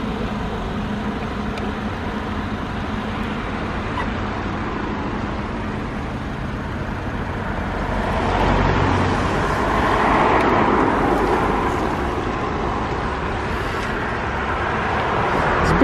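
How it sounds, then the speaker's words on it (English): Road traffic rolls past at the Dutch-German border crossing, a steady broad rumble of passing cars and heavier vehicles, swelling as a nearer vehicle goes by midway, with no speech. "as soon as the traffic clears"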